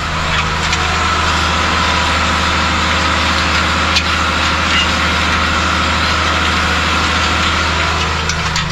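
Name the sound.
tractor engine running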